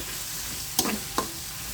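Chopped onions fry in a pan for a country-chicken curry, hissing in a steady close sizzle while a spatula knocks and scrapes twice as they are stirred.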